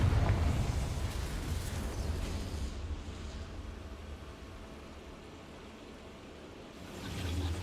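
A Confringo blasting spell in Hogwarts Legacy fires off as a loud, roaring burst, then a long rumbling, noise-like decay that fades before swelling again near the end, with no talking.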